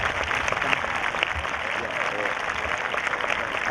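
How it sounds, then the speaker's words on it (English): Audience applause at an 8th grade promotion ceremony, a dense sustained wash of clapping from many hands filling the space, moderately loud and even throughout, with speech mixed in. "Please give them a round of applause."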